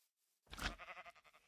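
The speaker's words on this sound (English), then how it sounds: "Sheep." A sheep in the video game Tensura: Roguelited gives a single close bleat after a brief silence, trailing off into a few wavering pulses.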